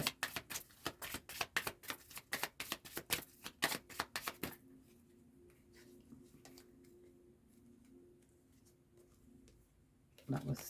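Tarot cards are shuffled in quick, crisp riffling bursts for several seconds, then a quieter stretch with faint murmuring before a brief card flutter returns at the end.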